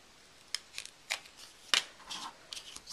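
Scissors trimming a paper card banner, a series of quiet, crisp snips and rustles spaced unevenly over a few seconds, close by with no talking.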